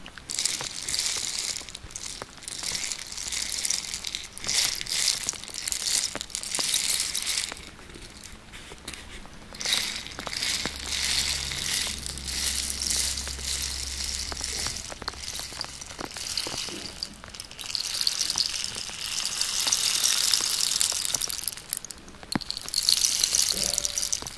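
A rain stick is turned over and over, giving a long, dense cascade of trickling, rattling grains that swells and fades in waves, with a brief low hum in the middle.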